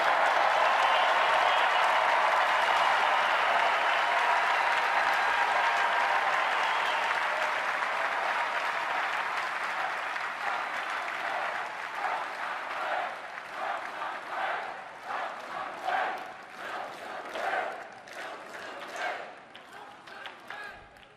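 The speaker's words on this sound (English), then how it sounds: "it is so nice to hear you cheering for what I just said" A large political rally crowd cheers and applauds loudly and steadily, with the roar gradually thinning into scattered shouts and uneven bursts of clapping toward the end.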